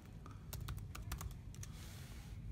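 Quiet clicking of keys on a computer keyboard comes in short bursts of typing while entering an SSH login to a Raspberry Pi, soft and close in a calm room with no talking.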